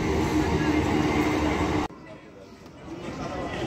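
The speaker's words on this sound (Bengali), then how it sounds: "ট্রেন ঢুকছে, ট্রেন ঢুকে গেল।" A train pulls into Shyamnagar station with a loud, steady rumble and rattle, then it cuts abruptly to quieter platform ambience.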